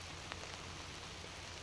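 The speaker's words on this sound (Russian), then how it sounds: "10-й день рыбалки встретил нас вот таким затяжным утренним дождем." Steady, long-lasting morning rain on a fishing trip falls as an even, continuous hiss of drops, with no talking.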